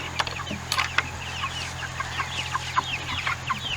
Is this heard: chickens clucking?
yes